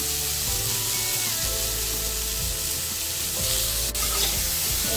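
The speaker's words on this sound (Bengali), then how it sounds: "এরপরে আমরা আলুগুলোকে হালকা ভেজে নেবো।" Cut potatoes with salt and turmeric lightly frying in a pan, giving a loud, continuous close sizzle with faint stirring beneath it.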